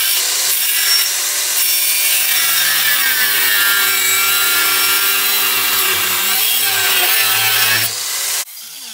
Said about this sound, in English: And quickly get onto the small grinder. I think some people call it a zip disc, some people call it a cutting disc.